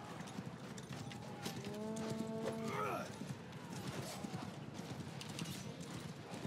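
Rapid clip-clop of horse hooves in a video game under a noisy backdrop, with a horse whinnying partway through and a voice talking.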